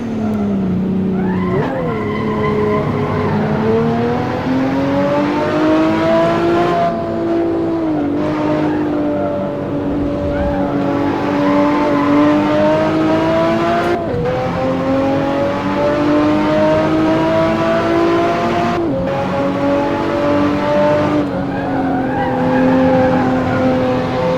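A race car in Assetto Corsa corners under a steady, loud engine drone, its pitch rising and dipping with throttle changes and brief gear shifts, while tires squeal faintly, with no voices.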